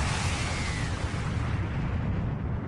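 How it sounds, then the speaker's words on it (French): A cataclysmic explosion in a Dragon Ball battle, a loud, dense roaring rumble that fills the whole clip and slowly fades at the top end, with no voices. "l'explosion cataclysmique se déclencha et tout prit fin"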